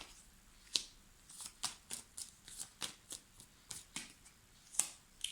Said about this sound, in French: je tire quelques cartes et je vous en parle